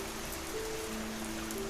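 Rain falling steadily in a cartoon moral story, a constant soft hiss of drops with faint tonal music running beneath it throughout.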